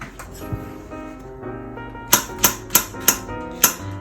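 A knife lightly chopping a banana, five crisp evenly spaced taps on a cutting board, close and distinct over a soft background hum.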